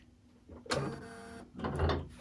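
A sewing machine stitches in place while free-motion quilting a pillow. It gives two short, steady mechanical whirring bursts close by, with a brief pause between them and no talking.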